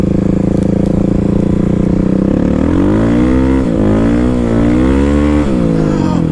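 A Kawasaki KLX351 motorcycle engine revs hard while the bike drifts on ice, loud and close. The pitch rises and falls in repeated throttle swells over a steady drone.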